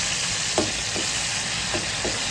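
Garlic paste and chillies fry in hot oil with a steady, close sizzle, broken by a few soft stirring scrapes; no one speaks.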